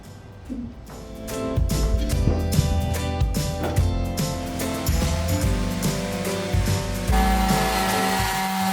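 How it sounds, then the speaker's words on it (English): A power sander works over a wood surface in a workshop, its steady whirring drone rising and falling as pressure shifts, loud and close with a brief dip before the motor surges again. "this part I want to sand a little extra"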